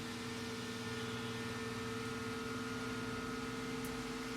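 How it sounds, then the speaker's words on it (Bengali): Steady electric hum from the turning motor of an automatic egg incubator lowering its trays, an even drone with a constant tone, continuous and unchanging throughout, close and moderately quiet with no talking. "দেখতে পাচ্ছেন এই মোটরের মাধ্যমে ট্রেটা নিচে নামতেছে, টার্নিং মোটরের মাধ্যমে ট্রেগুলো নিচে নামতেছে।"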